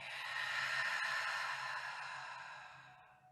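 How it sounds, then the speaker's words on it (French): A slow, deep breath out through the mouth during a restorative yoga session, a soft airy exhale that swells and then fades away to silence at the end, heard alone and close. "Et expirez."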